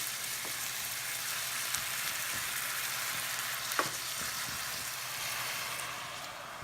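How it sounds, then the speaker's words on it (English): Ground meat mixture for Lebanese meat pies sizzles gently in a pan over low heat, a soft, even, continuous frying hiss with a few faint ticks and one small clatter, close and unbroken, no voices. "I'm cooking my my meat mixture on low heat"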